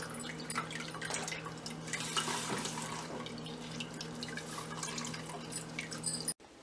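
Steady trickling and dripping water drains from curdled milk curds, running continuously at a low, close level, with faint background hum and a sudden cutoff near the end.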